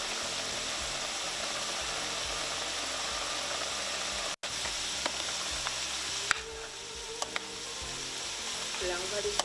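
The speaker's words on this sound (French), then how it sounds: "Là, on va laisser bien mijoter." A Caribbean meat daube with tomatoes simmers in a pot, giving a continuous soft sizzle and bubbling hiss with a few light clinks and a brief cut midway, no talk over it.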